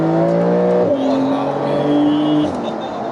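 Porsche 992 Carrera 4S turbocharged flat-six revving loudly close by, pitch climbing in steady sweeps with two sharp drops between rises, as if shifting through gears.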